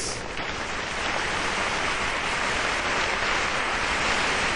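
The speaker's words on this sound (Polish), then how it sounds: "Oklaski dla Jezusa." Massive outdoor crowd at an African evangelistic rally clapping continuously, a thick, even roar of hands that holds steady throughout with no speech.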